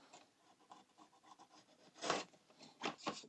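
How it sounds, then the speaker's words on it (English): A sanding stick scrubs along the edges of a 1:16 scale Orca boat model base, a run of short rasping strokes that turns into several louder, harder passes near the end. "You can sand along the edges here."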